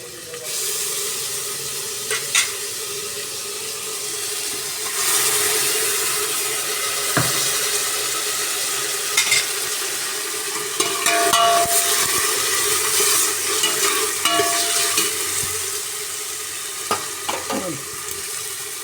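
Ginger garlic paste sizzles and fries in a hot pan for biryani while a spoon stirs and scrapes, a steady loud hiss with intermittent clinks and a brief soft voice.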